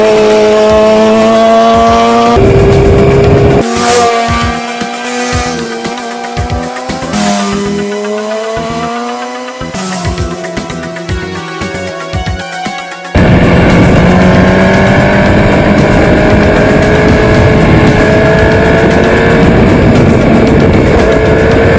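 A motorcycle ridden in a straight line on a road with gravel and salt. The engine roars loudly and steadily, its pitch climbing through several gear changes before settling into a sustained high drone, with no talk.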